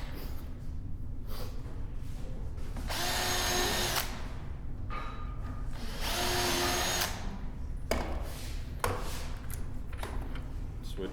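A power drill driving 1 3/4-inch screws into the top of a wooden chair: two sustained whirring bursts with brief clicks and handling noises between them, over a low background hum.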